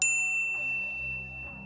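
A single bright notification bell ding, struck sharply at the start and ringing out in a sustained tonal decay for over a second, loud and alone with no voices.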